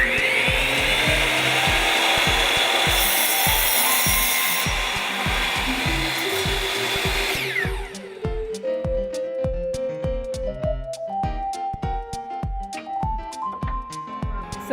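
A CNC router bit carves into wood with a loud, steady high-pitched whine and rhythmic grinding cuts, then the spindle pitch steps and shifts while the cutting pulses continue.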